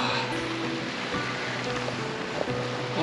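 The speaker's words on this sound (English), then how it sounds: "Oh, and the waterfall is epic." A steady wash of falling water and wind fills a mountain lagoon in Peru below a waterfall, even and moderately loud throughout, with faint voices in the background.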